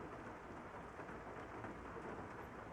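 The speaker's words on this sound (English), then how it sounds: "It's raining?" Steady rain pours down with a low rumble of thunder in the video game Master Detective Archives: Rain Code, a constant dense wash of sound with no voices.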